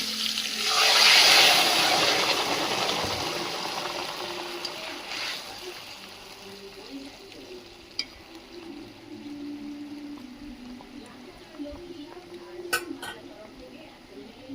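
Boiled rice water poured into a pan over lightly fried prawns for an elephant-apple and prawn chutney: a loud splashing gush in the first two seconds, then a softer bubbling simmer with occasional clinks of utensils.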